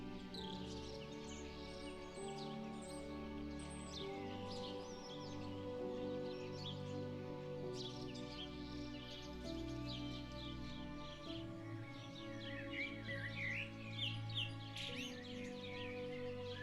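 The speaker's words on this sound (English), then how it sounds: "the horned lark, a small bird native to alpine and open habitats on the plateau, known for its ground nesting habits and distinctive call" A horned lark calls in open alpine country on the Tibetan plateau, faint thin chirps and twitters repeating irregularly over a quiet steady background hum.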